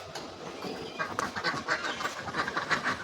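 Ducks on a farm quacking in a rough, overlapping chorus at moderate distance, with outdoor background noise and no clear speech.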